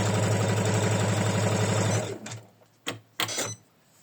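A sewing machine hums loudly and rhythmically for two seconds while stitching an autumn leaf project, then winds down and stops, followed by a couple of sharp clicks and handling sounds.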